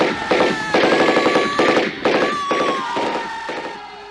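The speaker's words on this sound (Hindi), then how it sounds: "सिंह कभी इस मोर्चे पर दौड़ते तो कभी उस पर, स्टैन गन से गोलियों की बौछार करते हुए" Rapid bursts of automatic gunfire from a Sten gun in a dramatized wartime bunker battle, crackling in quick volleys across the whole stretch with a shrill whine threading through.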